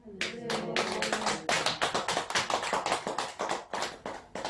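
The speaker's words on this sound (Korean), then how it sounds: "이제 박수 소리가 좀 이제 들리기 시작하네" An audience at a Korean Buddhist temple dharma service claps in a run of sharp, distinct hand claps that start after a sustained voice and settle into an uneven, close rhythm.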